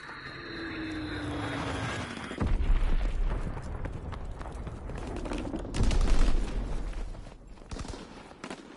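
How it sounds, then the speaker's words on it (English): In a video game, an Azon bomb drops with a descending whistle for about two seconds, then hits with a deep, loud explosion. Rumbling blasts and crackling gunfire follow, and a second heavy boom comes near the end. "Dropping Azon bomb."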